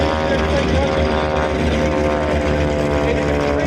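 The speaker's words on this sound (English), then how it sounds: "She's not a fast airplane" A propeller training airplane flying at the 2024 Greater Binghamton Airshow, its engine giving a loud, continuous drone throughout, with a voice speaking over it.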